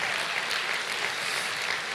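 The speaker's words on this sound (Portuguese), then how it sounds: "você pode dar uma salva de palmas por isso?" A church congregation breaks into steady applause, a dense, even clapping that fills the whole stretch with no one speaking over it.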